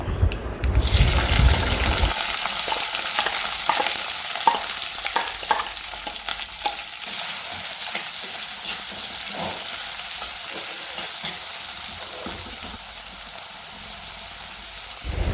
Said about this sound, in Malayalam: നല്ല എരിവുള്ള 5 പച്ചമുളക് നെടുകെ കണ്ടിച്ചതും കൂടെ ഇട്ടാണ് ഇനി വഴറ്റാൻ പോകുന്നത്